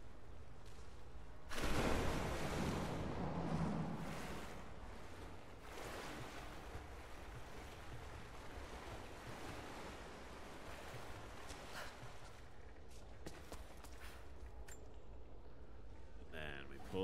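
A boat moves across water in Rise of the Tomb Raider, with a louder surge of water and wind early on, then a steady wash continuing under occasional talk.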